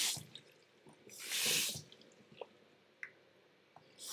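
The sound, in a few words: wig being rinsed and wrung out in sink water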